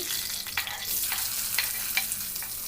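Mustard seeds, cumin and broken dried red chillies fry in hot oil with a steady close hiss and sizzle, with small pops and crackles scattered through, and no talking.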